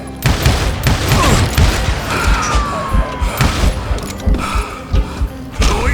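Gunfire from the Call of Juarez: Gunslinger video game: loud, close shots crack in rapid uneven bursts with ricochet whines and thuds, continuing throughout with no talk.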